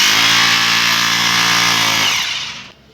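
A Bosch GBH 220 hammer drill breaks stone with a loud, harsh, fast-pulsing buzz that runs steadily, then winds down and falls quiet near the end.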